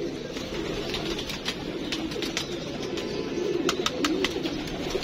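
Pigeons kept in a fancier's loft, including a paired male and red-eyed female, coo steadily in a close, dense flock chorus with occasional sharp chirps and brief wing flutters, no talking.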